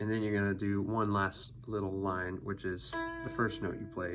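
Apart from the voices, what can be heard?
None of the usual background noises is heard.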